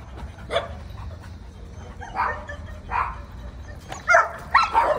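A dog reacts with several short barks and yips spread across the clip at an outdoor canicross event, moderately close over steady background rumble.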